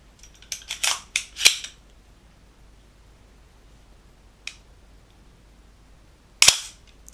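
VFC HK417 airsoft gas blowback rifle with its bolt carrier being released: a few sharp metallic clicks and clacks early on, one faint click midway and a final loud snap near the end, all close up with no talk.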